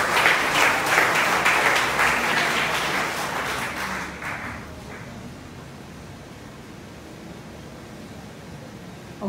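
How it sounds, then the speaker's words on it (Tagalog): Congregation applause in a church service, dense and loud at first, then thinning and fading into a quieter room after about four seconds. "Isa nga malakas na palakpak sa Panginoon."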